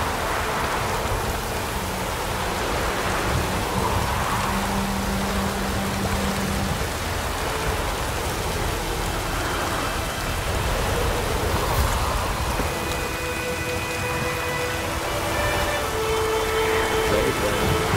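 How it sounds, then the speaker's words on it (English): Steady rain pours down in The Witcher 3, a constant broadband hiss with soft, low rumbling swells and faint tonal layers underneath, even and unbroken throughout. "Let it rain."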